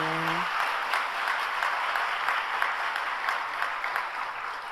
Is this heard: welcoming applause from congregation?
yes